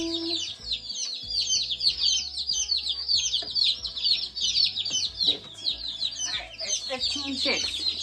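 Fifteen baby chicks in a new brooder peep constantly in a dense, high-pitched chorus that stays close and steady throughout, with a faint low hum underneath.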